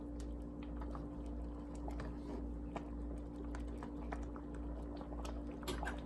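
A steady bubbling simmer of lentils boiling in a pot on the stove, continuous and moderately close, with faint clicks and scrapes scattered through it.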